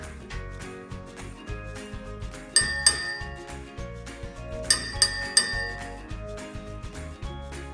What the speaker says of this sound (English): This results in the porcelain cups and plates' pleasant ring and pure white look.